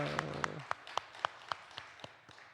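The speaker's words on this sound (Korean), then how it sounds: "우리 하나님 영광 박수 올려드립니다" At a Friday late-night prayer meeting in a Korean church, a chord from an instrument fades out while about nine sharp, evenly spaced claps ring out in a steady rhythm.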